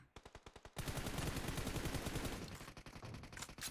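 Rapid automatic gunfire in an online shooter game, a few quick shots then a dense sustained burst of fire that thins into spaced shots, loud and close.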